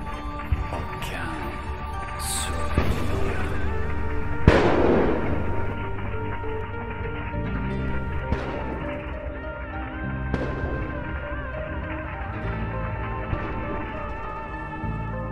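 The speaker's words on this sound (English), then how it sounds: "HIMARS destroys so many military vehicles. Fire everywhere, shell detonation, smoke." Shell detonations from HIMARS strikes on a Russian military convoy: a sharp blast stands out among scattered cracks and pops over a continuous dense rumble, with crackling bursts recurring throughout.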